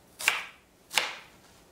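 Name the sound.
knife slicing shallots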